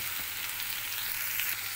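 Chopped onion and tomato pieces frying in a spoonful of oil in a kadai, giving a steady, close, bright hiss of sizzling with no talk over it.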